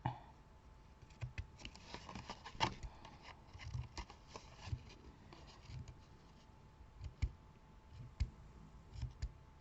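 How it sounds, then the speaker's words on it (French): Scissors trim the excess card from a handmade pocket card: a quiet run of short, crisp snips and clicks at an irregular rhythm, close by, with no talking. "Et là, on va découper surplus."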